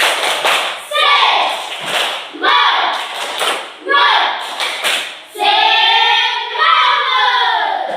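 A school class does rhythmic spirit clapping (tepuk semangat), loud bursts of group claps in patterned beats alternating with voices chanting along, ending in a sustained shout from the children.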